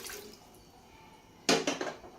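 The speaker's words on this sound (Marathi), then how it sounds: "ह्यामध्ये आपल्याला पाणी टाकून घ्यायचंय" Water is poured into a metal idli steamer pot, heard as a short splashing burst of under a second that follows quiet room tone and stays fairly soft.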